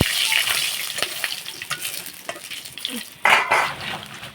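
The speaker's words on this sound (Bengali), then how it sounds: "এটা দিয়ে আমি একটু নেড়ে চেড়ে ভেজে নেব।" Dry red chillies split in two, bay leaf and whole garam masala spices sizzle in hot oil while being stirred, with a steady hiss broken by scraping and clinks of a spatula against the pan, loudest near the end.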